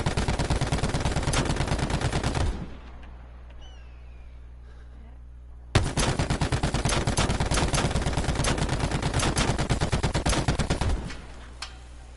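Rapid automatic turret gunfire in a PS4 game, loud dense bursts of shots for a few seconds, a pause with low engine hum and faint voices, then a second long sustained burst.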